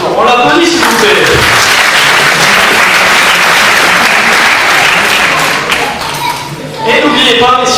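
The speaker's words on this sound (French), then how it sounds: "On l'applaudit s'il vous plaît." Audience applause after a magic trick at a magic show during a BTS tourism evening, a dense wash of clapping from a full room that holds steady, dips briefly near the end, then swells again, with voices mixed in.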